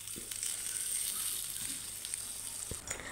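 Chicken cooking in sauce in a pan as the liquid reduces, a soft steady sizzle and bubbling hiss with a few faint clicks, quiet and continuous.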